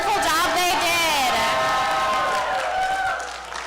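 A crowd at a Black History program cheers and applauds the performers, with loud whoops and a high voice or singing ringing out over sustained clapping that tapers off slightly at the end.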